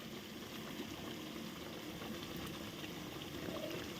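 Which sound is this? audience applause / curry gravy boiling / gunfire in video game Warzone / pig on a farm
curry gravy boiling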